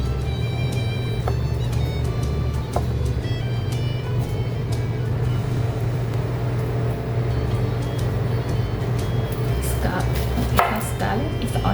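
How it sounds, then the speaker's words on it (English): A knife cuts through a tomato in a string of crisp chopping taps over a steady, droning engine-like hum, with no one speaking. "And we're gonna cut the tomato."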